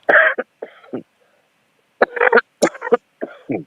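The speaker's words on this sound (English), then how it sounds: "I was just coughing" Several short, harsh bursts of coughing in clusters separated by brief pauses, close and fairly loud, with no speech around them.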